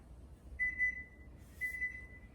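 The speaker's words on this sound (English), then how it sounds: "10-minute timer went off." Two short electronic beeps from a kitchen timer, evenly spaced about a second apart, ring out clearly over a quiet room.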